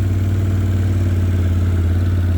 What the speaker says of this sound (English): The little tractor does the job.